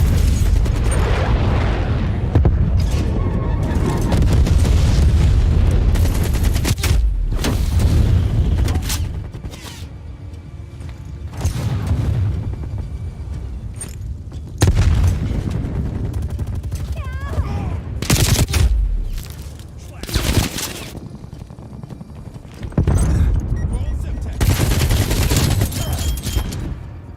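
Dense video game battle audio: napalm strike explosions booming over continuous gunfire and machine-gun bursts, loud and sustained with heavy low rumble, and a voice speaking intermittently through the chaos.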